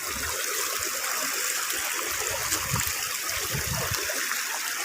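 Steady rushing water from a rocky forest waterfall stream, a continuous broadband roar with splashing and trickling close by, no voices over it.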